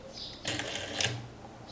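A sewing machine runs a short closing seam across a buttonhole, giving a quick burst of rapid mechanical stitching that stops within about a second.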